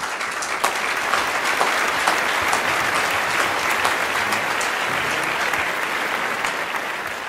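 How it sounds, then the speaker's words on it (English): Loud, full applause from an awards ceremony crowd greeting a winner, many hands clapping in a dense steady roar with a few sharper individual claps standing out, continuing unbroken for about seven seconds. "Let's give him a big round of applause"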